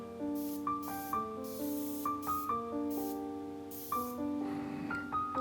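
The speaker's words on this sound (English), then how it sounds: "spraying some clear coat on it once the stain dried" Several short, hissing bursts of spray clear coat onto a stained wooden china cabinet, spaced a second or so apart, over steady background music.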